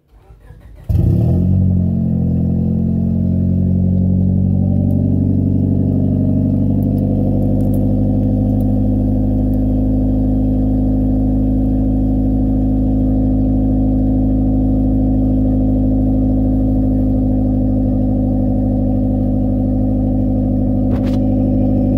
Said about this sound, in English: Let's see if she'll give us a cold start